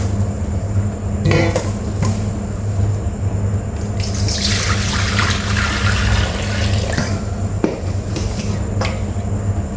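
Water for soaking rice pours in, a continuous gushing splash that swells in the middle amid clinks of pots and utensils, with no voices.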